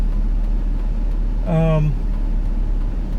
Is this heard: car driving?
yes